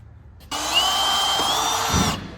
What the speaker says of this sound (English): you can drill out the center of them and then they'll come right out